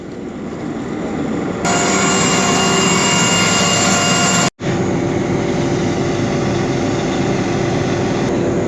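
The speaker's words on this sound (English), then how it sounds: "We got a hydraulic pump." A hydraulic grease pump driven by a vehicle engine on a farm during a cotton and soybean harvest: a loud steady mechanical drone and whine that rises in pitch once engaged, cuts out briefly, then keeps running close by with no voices.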